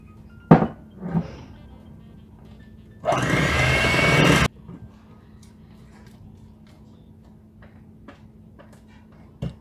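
A kitchen mixer on low speed works flour into spiced cut-out Christmas cookie dough, running in one loud, steady whirring burst of about a second and a half between a few soft knocks and clatters.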